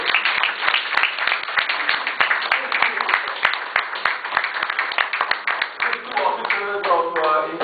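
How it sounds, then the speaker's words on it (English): An audience at an ethics-in-governance panel discussion applauds Nirima with dense, steady clapping that fills the room, while a voice begins speaking over the fading applause near the end. "I would request that all of us join in applauding"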